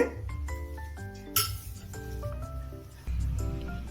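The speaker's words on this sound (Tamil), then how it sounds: "அதுக்காக நான் எல்லா ஆனியனையுமே மிக்ஸ் பண்ணிக்கிறேன்" Onions being mixed into potato masala in a bowl bring rapid clinks and clatters of a metal spoon against the dish, close and crisp, in irregular bursts with short pauses.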